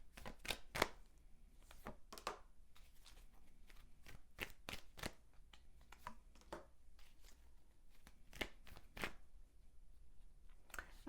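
Tarot cards being shuffled and drawn, heard as soft, quick riffling snaps and taps in irregular bursts, faint and close in a quiet room with no speech.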